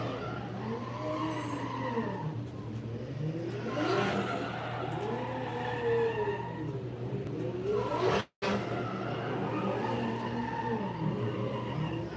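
A drift car on a competition course at a professional summer drift event, engine bouncing off the rev limiter in repeated rising and falling bursts with tire squeal, loud and close, with a brief dropout near the end.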